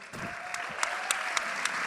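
Brief round of clapping for Claudia at a Colombian videopodcast gathering, moderate applause with a few sharp individual claps standing out.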